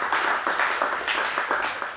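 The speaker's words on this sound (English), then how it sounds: "So how about a nice round of applause for those guys just for helping us out as well." Audience clapping in a round of applause for event sponsors, steady bursts of hand claps at moderate volume with no talk over them.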